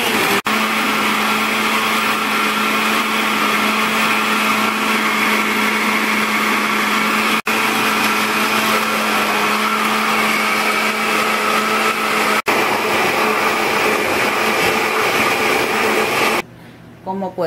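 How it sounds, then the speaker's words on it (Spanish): A blender whirs loudly and steadily while blending carrot and beetroot juice, a constant close motor drone that runs for most of the stretch and then cuts off abruptly near the end. "Vamos a dejar licuando 5 minutos para que todo se licúe perfectamente."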